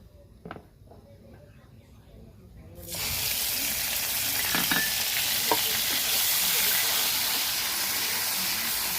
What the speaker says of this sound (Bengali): পেঁয়াজটা বেশ লাল লাল করে ভাজতে হবে।